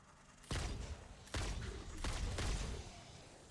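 Homing rounds fired from a weapon in the factory-building game Satisfactory: three loud, distinct broadband bursts about a second apart, each with a sustained rumbling tail, alone without talk.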